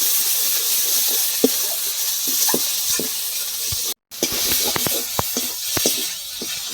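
Spices and turmeric being sautéed for a fried egg curry: a steady sizzle in the pan with repeated stirring scrapes and clicks, close and fairly loud, with a brief dropout partway through.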